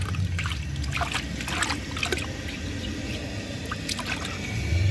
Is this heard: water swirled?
yes